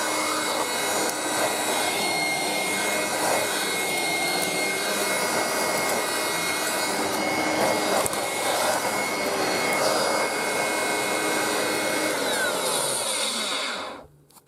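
A Black & Decker AC7000 PowerBrush handheld vacuum cleaner runs with a loud, steady whirring drone for the full stretch, then cuts off at the very end.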